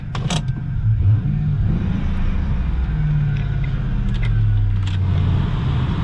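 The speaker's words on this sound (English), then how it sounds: "Go ahead and test out the transmission. We got reverse. We got drive." A 2003 Ford Mustang Mach 1 engine idles steadily during a transmission test, giving a close, constant low rumble with a few faint clicks and jingles.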